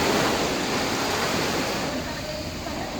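Sea waves at a beach during high tide, a dense continuous roar of surf with wind buffeting the microphone, close and loud throughout.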